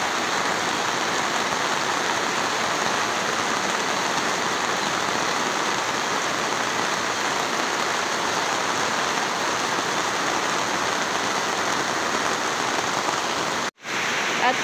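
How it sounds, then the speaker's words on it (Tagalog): Heavy rain pours steadily and loudly, with water rushing and flowing nearby in a dense, unbroken wash that cuts out abruptly for a moment near the end. "malakas po yung agas ng tubig. Yan, daloy ng tubig po."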